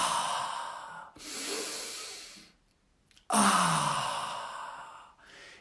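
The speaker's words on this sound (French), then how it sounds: "Mettez la gorge en extension et inspirez profondément." Deep breathing in and out during a meditation, a long audible inhale and a loud, close exhale separated by a short pause, with no talking.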